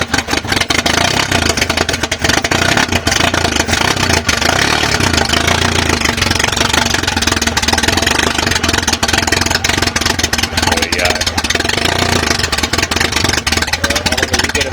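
A Toyota Corolla 2E engine with twin Weber carburettors and a 292 cam idles loudly and close, a continuous uneven mechanical clatter and hum with no voices.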